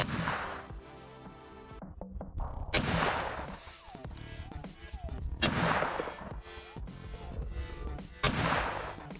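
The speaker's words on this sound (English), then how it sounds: "Gun runs way better with crimped rounds" Bryco Model 38 .32 ACP pistol test firing crimped rounds: several loud, sharp reports spaced a few seconds apart, each with a short ringing tail, recorded close by with no talk.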